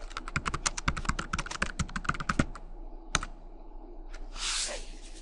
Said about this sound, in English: all I did was type my basic task